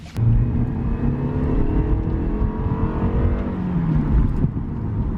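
A 2021 Lexus IS300 turbo accelerates uphill: a loud, steady engine drone climbs in pitch through the rev range, then eases off near the end, with no talk over it.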